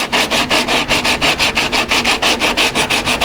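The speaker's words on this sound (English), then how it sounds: "pretty quickly with this 80 grit, it starts to smooth that out" Wood is hand-sanded across a seam with 80 grit sandpaper, producing rapid, even back-and-forth rasping strokes, loud and close, with no voice.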